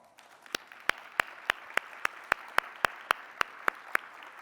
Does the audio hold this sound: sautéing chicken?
no